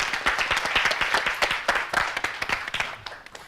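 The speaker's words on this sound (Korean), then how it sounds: "박수로 환영해 주시죠." A small audience at a high school debate competition claps for a few seconds. Individual claps stand out sharply and gradually thin out toward the end.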